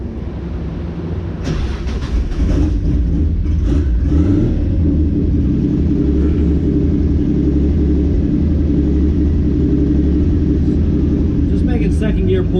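A Nissan 280ZX engine revs hard through second gear on a dyno, a loud, steady, droning roar that fills the whole clip with a dense low rumble.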